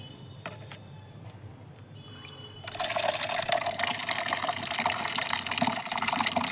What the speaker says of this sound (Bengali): এর সঙ্গে আমি পুরো মগটা ভর্তি করে জল নেব।